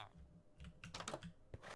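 Quick bursts of computer keyboard typing while entering a command in Minecraft, a handful of close, soft clicky key presses in uneven clusters, fairly quiet with no talking.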